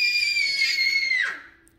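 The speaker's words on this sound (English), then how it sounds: "why are you screaming?" A young girl screams indoors at home, one close, loud, sustained high-pitched shriek lasting over a second before it trails off with a falling pitch.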